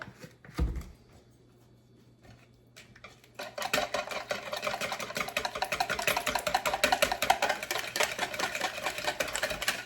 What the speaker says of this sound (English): now I'm going to mix it.